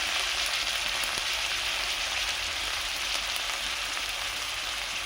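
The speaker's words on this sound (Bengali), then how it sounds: "আদা বাটা পোস্ত বেটে রেখেছিলাম দিয়ে দেবো দিয়ে ভালো করে মশলা আমি কষিয়ে নেব" Ginger and poppy seed spice paste sautés in a pan with a steady, dense, close sizzle and no talk.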